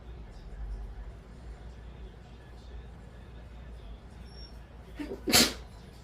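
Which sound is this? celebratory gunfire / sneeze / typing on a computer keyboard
sneeze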